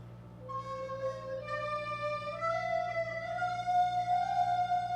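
A recorder plays an ascending scale of four sustained notes, do, re, mi, fa, moving smoothly upward from one to the next over a few seconds, alone and close, with a low steady hum underneath.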